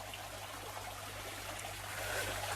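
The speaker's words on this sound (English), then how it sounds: "Then we just rinse everything into a corner." Water trickles and pours steadily at low volume as aquarium stones are rinsed into a corner of a tank set up for galaxy rasbora breeding, a soft continuous splashing without talk.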